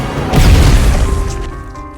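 A grenade explosion in a film bursts as one heavy, close boom with a crashing impact, then rumbles and fades away over about a second.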